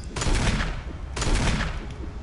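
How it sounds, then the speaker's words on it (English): Two heavy magnum gunshots from the Resident Evil PS4 remake, each a loud broadband blast with a long echoing decay, spaced about a second apart and heard alone without talk. "that's two magnum shots so far"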